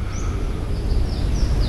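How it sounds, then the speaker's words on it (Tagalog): Faint, high bird chirps and short call sweeps come through intermittently over a steady outdoor background hiss at a seminary, with no other distinct sound. "wala akong ibang sound na maririnig sa background maliban sa mga huni ng mga ibon"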